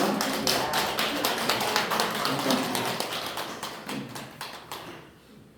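A church congregation at a Thanksgiving service claps in welcome, a fast run of bright, evenly packed claps that thins and fades toward the end, with a brief spoken thanks.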